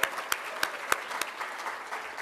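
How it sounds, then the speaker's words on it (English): An audience at a grassroots panel event claps together, a steady wash of applause with a few sharp, louder claps standing out near the start before it settles into an even patter. "I would like you all to give yourselves a large round of applause"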